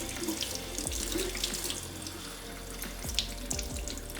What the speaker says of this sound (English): We want to rinse off any of the debris.